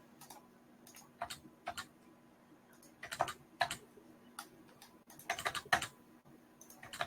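Quiet keystrokes on a computer keyboard come in short irregular clusters of clicks with brief pauses between them, close to the microphone and without any talk.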